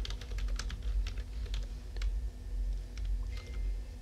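Fingers tap out uneven bursts of soft, close keystrokes on a computer keyboard while entering an expiry formula in an Excel spreadsheet, over a quiet low hum.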